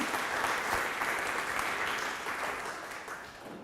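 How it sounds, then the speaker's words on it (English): An audience at a live event claps in steady, dense applause that stays loud and gradually thins toward the end. "can we get a round of applause for Erica, folks?"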